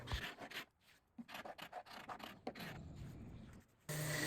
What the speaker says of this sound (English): I did have to go back in some areas with my carbide scraper to remove it